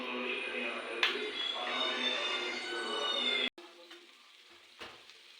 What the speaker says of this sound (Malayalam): നമുക്കിനി ഈ ചിക്കൻ ഫ്രൈ ചെയ്തെടുക്കാം.